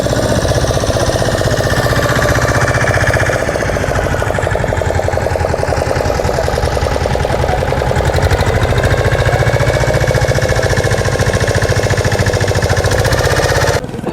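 A large passenger boat's motor runs near a secluded beach at Talsari, Odisha, at sunset, a loud, continuous, throbbing drone close by that holds steady throughout with no talk.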